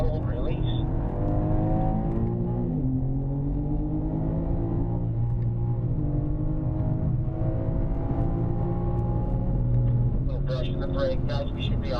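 A BMW M car accelerating on a race track, its engine droning steadily and loudly, with the pitch climbing and dipping through gear changes, heard from inside the car; no spoken words come through.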